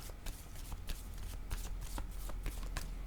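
A deck of oracle cards is shuffled and drawn by hand, making close, crisp riffling and flicking bursts in an uneven rhythm.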